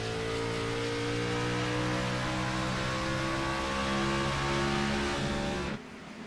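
Onboard NASCAR Xfinity Series race car at New Hampshire Motor Speedway, engine droning loud and steady at high revs with a constant harmonic whine through the lap, cutting off sharply near the end.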